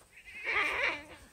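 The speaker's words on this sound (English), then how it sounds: "She's our oldest goat." An old farm goat gives a single drawn-out bleat of about half a second, loud and close by, with no talking.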